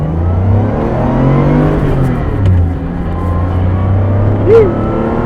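A 3.2-liter Porsche 911 Carrera pulls hard on a mountain run, engine droning loud and close from inside the car, pitch climbing through the revs with a brief shift dip.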